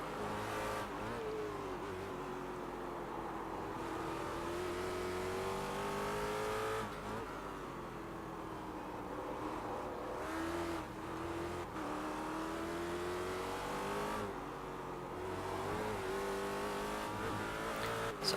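In the iRacing sim at Virginia, a race car engine held at full throttle rises steadily in pitch through the gears, with brief dips at the shifts. The loud, continuous drone sits close and carries no voices.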